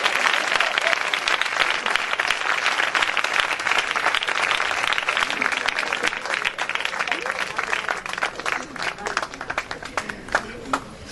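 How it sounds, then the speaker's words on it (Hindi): Church congregation gives loud, sustained applause, a dense steady roar of many hands clapping throughout that thins slightly toward the end. "जोरदार तालियां जब तक"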